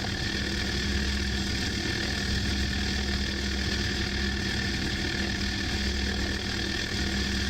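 A de Havilland Dragon Rapide's piston engines drone at raised throttle in Microsoft Flight Simulator 2024, a loud, steady, even rumble with a faint buzzing hum, unbroken from start to finish.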